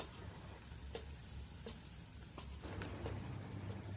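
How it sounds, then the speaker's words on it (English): Thinly sliced onions deep-fry in hot oil with a faint, even crackle and scattered soft pops, low and steady throughout. "When oil is hot, add the thinly sliced onions carefully and cook them on the same temperature"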